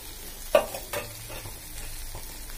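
Sambar ingredients, lentils with carrots, garlic and leaves, stirred in a pan: a couple of soft scraping knocks followed by quiet stirring over a low sizzle, with no voices.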